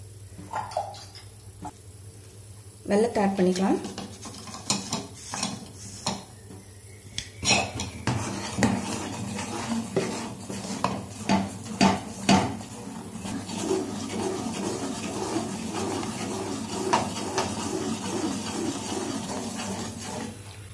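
Urad dal porridge is stirred in a pot over a medium flame, a spoon scraping and knocking against the metal in uneven, repeated clatters with a low background hum, and no one talking.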